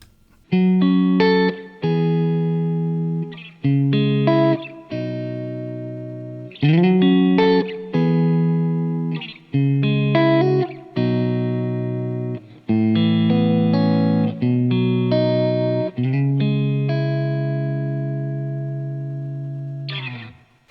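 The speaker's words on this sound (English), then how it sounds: "So we can turn on the reverb by pushing this button here and then turn up the mix." Electric guitar through an IK Multimedia TONEX reverb effect, playing a sequence of strummed chords, each ringing out with a lingering, spacious reverb tail; no voices, ending on a long sustained chord.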